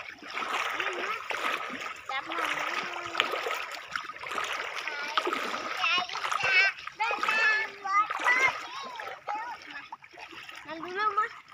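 Children splash and play in floodwater covering a road leading into an orchard, with continuous watery splashing and sloshing close by, mixed with excited kids' shouts and chatter throughout.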